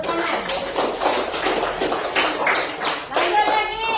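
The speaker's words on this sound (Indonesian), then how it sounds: "Iya, Atid, tepuk tangan" A classroom group claps together after a student answers a quiz question about angels, the dense patter of hands running steadily and close with voices mixed in.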